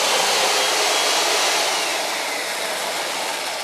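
An electric chainsaw for cutting trees, with no fuel needed, runs at a steady, loud, high-pitched whine for the whole stretch and fades slightly toward the end.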